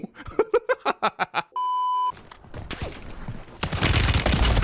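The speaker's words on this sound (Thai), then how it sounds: "ถือคู่มันจะรัวประมาณนี้ครับ" Two guns wielded at once fire in a rapid, rattling burst in the shooter game Warzone. It follows a series of pulsing tones and a steady electronic beep, then swells into dense, loud continuous gunfire near the end.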